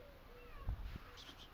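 A cat meows briefly, a short mid-pitched call followed by a fainter second cry, close by against a quiet indoor background with no talking.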